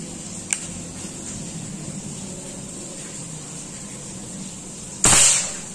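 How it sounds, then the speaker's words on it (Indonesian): A Predator bullpup air rifle with a 40 cm seamless barrel fires a slug: one sharp, loud crack near the end, after a faint click and steady background hum. "tes tembakan pertama."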